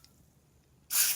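A short, loud hiss of dry lubricant aerosol sprayed during a thermostat repair on a Mercedes E320 OM642 diesel, bursting in near the end after quiet and lasting about a quarter second.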